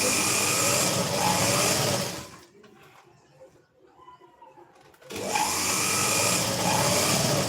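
A sewing machine stitches a strip onto a size 34 prince-cut blouse, its motor whirring loudly in two bursts separated by a quieter pause of a few seconds.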